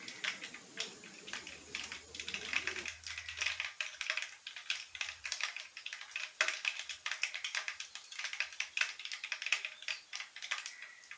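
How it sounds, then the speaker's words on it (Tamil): Mustard seeds splutter in hot oil for an egg fry, a dense, constant crackle of tiny pops and sizzles that runs throughout at moderate loudness, with no voices. "கடுகு நல்லா பொரியுது"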